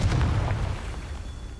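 A Confringo spell explosion in the Hogwarts Legacy video game, a deep booming blast at the start that fades into a rumbling decay.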